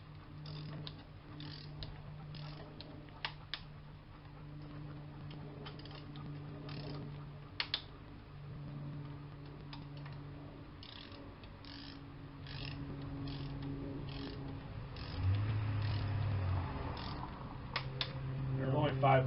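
A ratchet tightens a plastic oil filter housing on a 2014 Dodge Avenger, giving quiet clicking bursts scattered across a low background hum, with faint talk in places.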